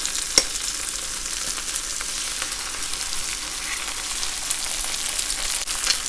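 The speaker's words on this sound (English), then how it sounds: "go ahead and scramble it immediately. Mix everything together." An egg is scrambled into Chinese sausage fried rice in a hot pan, giving a loud, continuous, close sizzle with faint stirring scrapes throughout. No one speaks.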